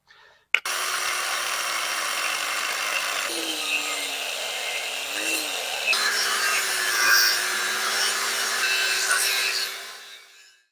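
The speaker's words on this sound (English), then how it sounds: "And we'll just get out the cutoff wheel." A cutoff wheel grinding through old rotten wood on a porch, starting with a sharp clack before the tool spins up into a loud, steady whine that shifts pitch as it bites, then winds down.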